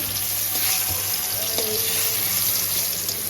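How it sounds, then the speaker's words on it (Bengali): Eggplant frying in a pan gives a steady close sizzle and crackle, with a few stirring scrapes and clinks over the hiss, and no voices. "বেগুনটা ভেজে নেব"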